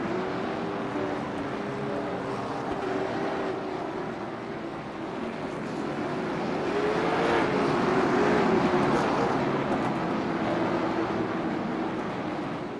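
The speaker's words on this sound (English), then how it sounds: "These cars sound good when they pass this camera." Late model race cars roar past at a short track during a race, a loud sustained engine drone with a rising and falling pitch as the cars sweep by, swelling toward the middle and easing off again.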